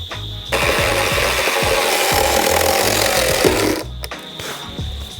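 A handsaw cuts through wood while land is cleared, with rough rasping strokes that run continuously, then stop and leave a few short scrapes. Heard close, with no talking.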